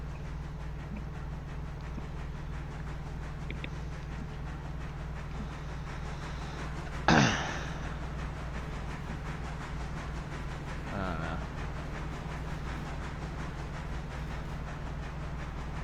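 A train runs on autopilot in the Railroader multiplayer game, producing a steady low rumble and hum with a brief sharp hiss of air or steam midway and a fainter hiss later.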